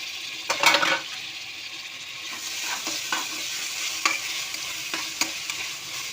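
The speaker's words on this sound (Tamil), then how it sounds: "தக்காளி நல்லா வதங்கிடுச்சு பாருங்கள்" Tomatoes, coriander, mint and green chili sauté in a pan with a continuous soft sizzle, broken by intermittent scraping stirs of a utensil against the metal, no voices.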